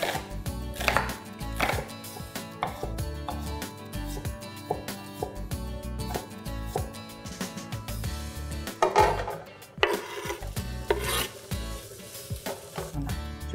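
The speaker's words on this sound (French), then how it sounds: "On va couper les rondelles de pommes de terre oignons assez fins." Knife chopping peeled potatoes and onion into thin rounds on a cutting board, a quick steady rhythm of sharp close thuds and clicks with brief pauses, no talking.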